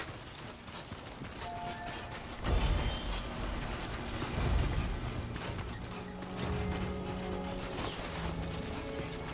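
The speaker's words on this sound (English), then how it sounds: "I keep hearing like an animal running behind me" Hoofbeats of an animal running in Death Stranding 2 thud along under steady rain, with a few louder, heavier impacts swelling partway through and faint tonal game sounds laid over the top.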